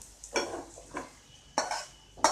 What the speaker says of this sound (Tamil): வெங்காயம் வந்து நல்லா ப்ரௌன் ஆயிடுச்சு இப்போ ஸ்டவ் ஆஃப் பண்ணிடலாம்